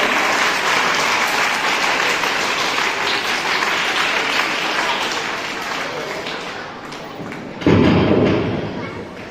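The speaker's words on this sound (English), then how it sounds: "Give a huge round of applause for our Head Coordinator Sir." An audience at a school leaders' investiture ceremony claps loudly and steadily for several seconds, a dense wash of applause that fades slightly before a sudden louder thump and a renewed burst near the end.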